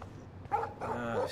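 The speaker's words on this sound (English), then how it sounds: "No barking." Short barks and yips from a dog in the video game Life Is Strange, two or three close bursts over about a second with a low background hum.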